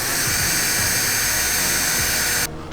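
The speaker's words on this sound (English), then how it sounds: "So I'm going to drill out the rest of the holes now." A high, steady whine of a power drill boring holes in plastic, running continuously up close, cutting off abruptly near the end.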